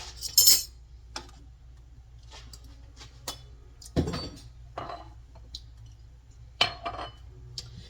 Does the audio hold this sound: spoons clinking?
yes